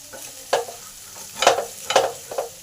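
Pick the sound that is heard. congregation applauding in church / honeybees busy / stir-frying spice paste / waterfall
stir-frying spice paste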